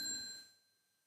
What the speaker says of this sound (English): Then we can bow to our friends and family with the next sound of the bell.